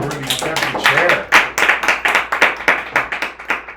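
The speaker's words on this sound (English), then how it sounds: "Let's give a round of applause." A round of applause at a political fundraising broadcast: many hands clapping in quick, uneven bursts, loud and close, with voices mixed under the clapping.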